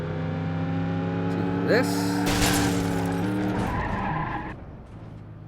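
Damaged, smoking car driving in BeamNG.drive, with a steady engine drone and a brief tire skid in the middle, then quieter running near the end; a voice talks briefly over it.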